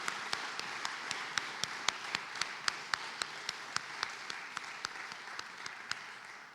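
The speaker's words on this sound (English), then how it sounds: "Can we just start with some applause?" Audience applause fills the room at a book awards ceremony, a steady wash of many hands clapping with sharper individual claps standing out, sustained and fairly loud throughout.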